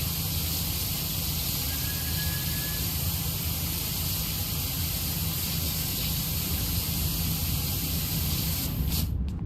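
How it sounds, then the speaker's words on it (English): A pressure washer in PowerWash Simulator sprays off rust in a steady, loud hiss of high-pressure water that runs almost unbroken, cutting off abruptly at the very end. "Yeah, I'm just gonna spray off rust."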